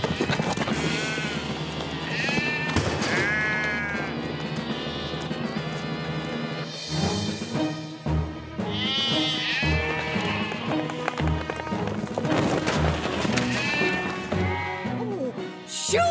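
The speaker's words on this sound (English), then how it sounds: "There's a flock of sheep stampeding all over Pontypandy" Cartoon sheep from a stampeding flock in Pontypandy bleat repeatedly in wavering cries, mixed with busy background music and clattering hooves throughout.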